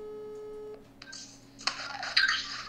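A landline telephone being dialed before a call, with a short run of tones and line signals up close, no talking.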